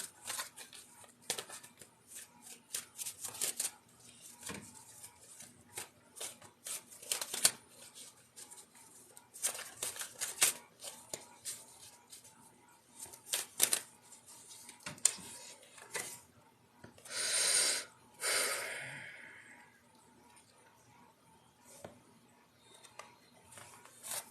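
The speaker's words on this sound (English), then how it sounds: "I'm going to make a shuffle, Anna." Rapid riffling bursts of card shuffling, close and crisp, repeated several times with brief pauses, ending in two longer, louder riffles.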